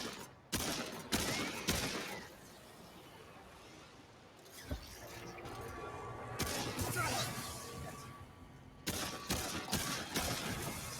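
Turrets fire at players in the video game Remnant 2. Rapid bursts of gunfire come in several loud volleys separated by quieter stretches, with occasional crashes and impacts.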